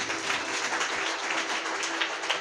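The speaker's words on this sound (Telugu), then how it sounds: "చప్పట్లు కొట్టు" A church congregation claps together in a dense, steady patter of many hands that keeps an even loudness for a couple of seconds.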